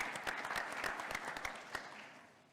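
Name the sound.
audience applause at a convention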